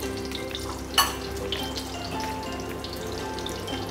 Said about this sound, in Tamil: முந்திரியை ஒரு 10-15 முந்திரியை போட்டு வறுத்து எடுத்துக்கணுமா?